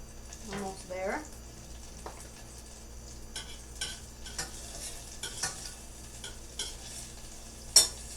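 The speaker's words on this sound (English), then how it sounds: "The butter is melting here." Butter melting in a pan for mac and cheese, a faint soft sizzle beneath irregular utensil scrapes and clinks. A brief voice is heard near the start.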